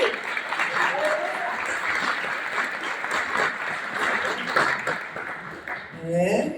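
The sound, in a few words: church congregation applauding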